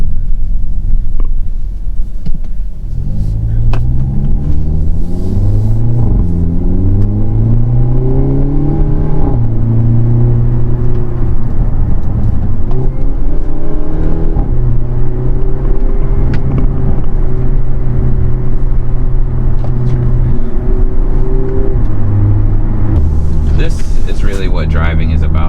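A 2022 Hyundai Elantra N driven in N mode accelerates hard, its engine loud and close with rising revs, gear changes and a steady rumble over wind noise, while a person talks throughout.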